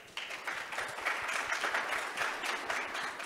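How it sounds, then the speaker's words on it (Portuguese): Audience applause at a hybrid paving industry conference panel, fairly faint and steady, a crowd of hands clapping for a few seconds. "Uma salva de palmas."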